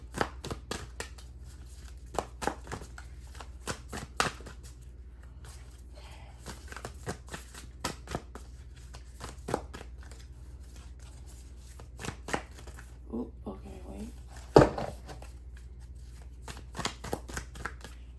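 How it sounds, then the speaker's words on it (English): A deck of double-sided tarot-style cards is shuffled over and over, with quick riffling bursts and soft taps in an uneven rhythm, close by and fairly quiet, with no voices. "I just kind of shuffle without looking"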